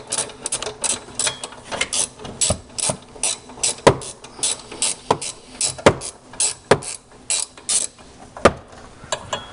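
Rapid ratchet clicking in repeated bursts as a wrench works the battery terminal nut on a 2010 Toyota Prius, loud and close with short pauses between strokes, no voices.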